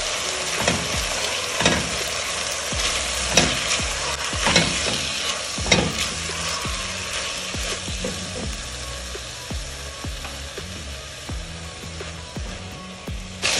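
Tomatoes frying in a pot for prawn biryani, a loud steady sizzle broken by repeated sharp scrapes and clacks of a spoon stirring at a regular pace, close up with no voices.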